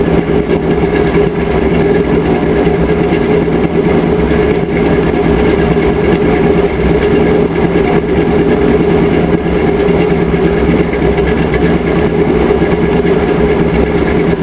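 A 1952 Chevrolet engine running steadily through its exhaust, giving a loud, continuous, even rumble that holds unchanged from start to finish.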